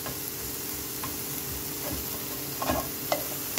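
Bahamian stew fish simmers in a pot with a steady, dense bubbling sizzle, broken by a few faint ticks and clinks near the end.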